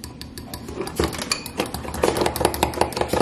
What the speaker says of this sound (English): you want to mix up those ingredients together